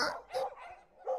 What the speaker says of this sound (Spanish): en este barrio tienen muchos perros